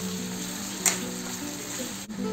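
Tomatoes sizzle and fry steadily in a hot pan while goat liver curry cooks, with a brief stirring clack partway through; the sizzle stays close and even, with no voices.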